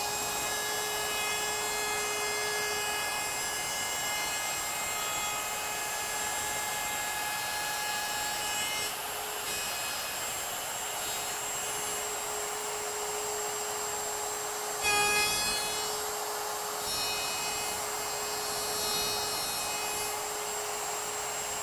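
A Festool power tool cutting wood runs as a steady, continuous whine with a bright, even hiss, holding nearly constant loudness throughout, with one brief surge partway through and no talking.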